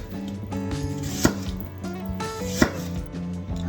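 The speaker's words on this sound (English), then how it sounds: "Got some onions chopped up, but this one I'm going to do a little differently" A knife chops onions into bigger pieces on a board, with two sharp, close chops about a second apart and softer cuts in between, over steady background music.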